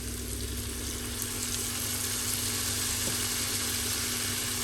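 Okra and eggplant stew sizzles steadily in a pan after lemon juice is added, a constant bright frying hiss with faint stirring scrapes underneath.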